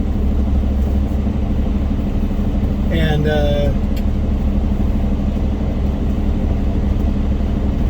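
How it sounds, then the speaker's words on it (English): A stainless steel spread-axle semi truck passes close by, its engine a steady, loud low rumble heard from inside a truck cab, with a brief word spoken over it. "you guys see that truck right there? The stainless steel, the spread axle."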